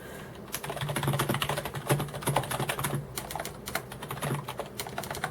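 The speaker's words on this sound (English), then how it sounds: "it's easily one of the best rubber dome keyboards for the money that I've ever typed on" Someone types steadily on a Perixx Periboard-106M rubber dome keyboard. The close, muffled key presses run in a fast, continuous patter with no talking.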